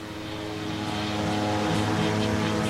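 A large 1.8 m diameter fan driven by a 350 hp motor roars steadily and loudly, a continuous propeller-like drone with a rising whoosh of rushing air.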